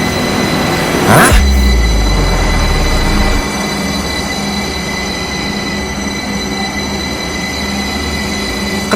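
Trains rumble along the rails with a loud screeching wheel squeal near the start, then a steady rolling drone continues.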